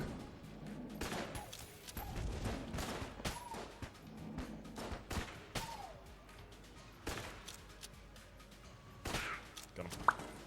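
Rapid bursts of gunfire from a backup gun in the video game Enter the Gungeon, dense overlapping shots in a busy stream with a few pauses, loud and continuous without talk.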